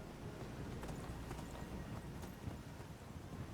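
Horse hooves clip-clopping at a gallop in Skyrim, a steady rapid rhythm of dull thuds with some wind rush, moderately quiet and without talking.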